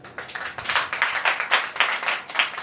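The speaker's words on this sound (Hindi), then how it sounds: "तालियां बजा दो खुदा" A church congregation claps along in a steady, lively rhythm, the claps dense and fairly close, with no voices over them.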